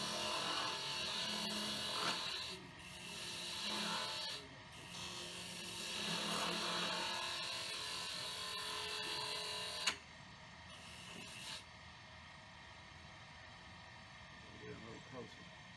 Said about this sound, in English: Now I'm going to use a spindle gouge and start bringing this down where I want it to be.